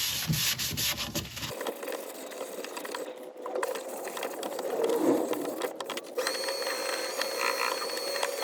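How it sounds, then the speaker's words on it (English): Abrasive Yorkshire grit rubbed against a spinning wood and resin turning on a lathe, a steady hissing scrape with a brief sharper burst early on, then an even whirr that runs on unbroken. "then we're going to use some Yorkshire grit to cut it back"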